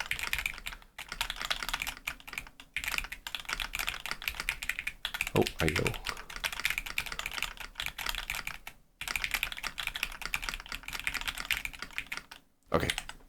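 Steady clacking of fingers typing on a computer keyboard, close and continuous with short pauses, and a brief spoken word partway through.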